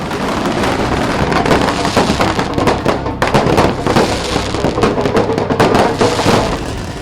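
Dense fireworks crackle and burst continuously at a street celebration in Bhopal, India, loud and close, with rapid popping firecracker strings throughout.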